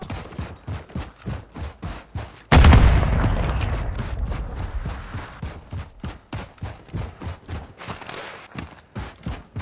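A grenade going off in Modern Warfare 3 multiplayer: one loud, sudden blast with a long rumbling decay. Rhythmic footsteps run before and after it.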